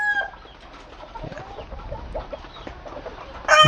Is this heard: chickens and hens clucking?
yes